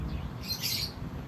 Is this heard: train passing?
no